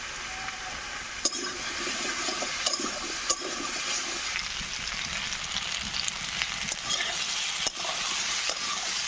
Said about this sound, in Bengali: আমার আলু আর পেঁপেগুলো সুন্দর লাল লাল করে ভাজা হয়ে গেছে।